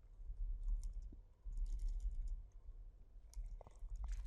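Text goes in on a computer keyboard as soft, irregular key clicks tap along under a low room hum, quiet and nearby, with no one talking.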